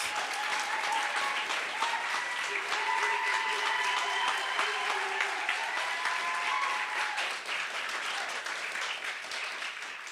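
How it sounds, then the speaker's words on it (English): An audience at a state poetry recitation final gives a sustained round of applause, steady clapping with some whoops and voices over it, gradually thinning after about eight seconds. "let's give them a round of applause"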